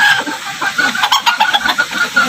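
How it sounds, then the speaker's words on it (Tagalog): A Rhode Island hen on a small farm clucks in quick, close bursts while laying eggs, loud and uneven with short pauses between calls. "ang inahing ko ng Rhode Island na nangingitlog"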